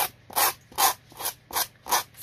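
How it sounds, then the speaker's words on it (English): Rhythmic back-and-forth rasping strokes of a sanding block smoothing a journal cover edge, about five even scrapes, close and steady with brief pauses between. "sanding block, kind of smooth it out."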